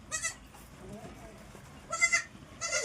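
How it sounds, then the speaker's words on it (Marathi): Goats waiting in a crate bleat in short, loud bursts near the start and again toward the end, close by, with a little faint background murmur between the calls. "गवळी थांबली तिच्या बकरांपाशी, तिचे बकर कॅरेट मध्ये आहे।"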